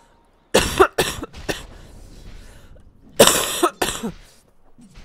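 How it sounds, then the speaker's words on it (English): Two bursts of harsh coughing, each a quick cluster of three or four coughs, separated by a short quiet pause. "I just need to cough a little."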